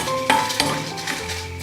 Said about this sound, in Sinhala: වේලිච්ච රතු මිරිසුයි දාලා ඒ ටික බෙද ගන්නවා